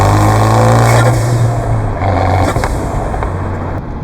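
Inside the cabin of a Fiat 124 Spider Abarth with its small turbocharged engine, a steady engine drone and road and wind noise fill the car while driving, with a low hum that shifts as the revs change.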